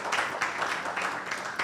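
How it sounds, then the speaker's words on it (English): Applause from an audience for a legal panel at a bar association law week event, a steady dense patter of clapping filling the hall at moderate loudness. "A round of applause for this wonderful panel."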